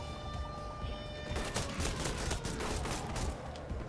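A minigun in the video game Radikal Fighters fires a rapid burst of gunfire that starts partway through and continues as a dense rattling stream, moderately loud against the game's background noise, with no one talking.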